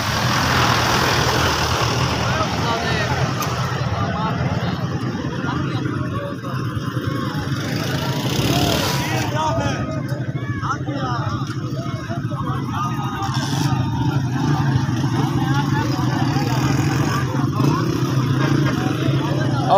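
Auto rickshaw engines drone and buzz continuously during a rickshaw race on the Indus bypass road in Kot Addu, Pakistan, mixed with passing traffic and a crowd of spectators talking, all loud and close.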